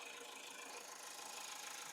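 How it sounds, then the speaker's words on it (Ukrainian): Idling 2.2-litre diesel engine of a 2016 Mazda CX-5 with all-wheel drive and automatic gearbox, heard under the open bonnet as a steady, even hum with a faint knocking texture, no voices. "Двигун працює чітко, без зайвих шумів"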